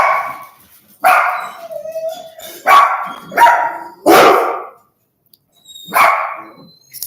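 Dogs barking indoors, a series of about six sharp, loud barks in an uneven rhythm with short gaps and a whine between them, close by with no talking over them.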